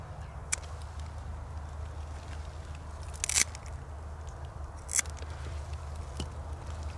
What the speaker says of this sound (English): Pull his legs out, and that's where my side cutters come in. I'm going to cut off his front feet.